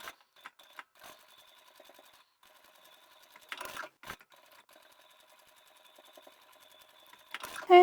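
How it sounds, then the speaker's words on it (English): A sewing machine back stitches a seam on a small lingerie wash bag, a quiet close mechanical whirr in short runs broken by pauses, with a couple of louder handling thumps. "Back stitch at the beginning and the end."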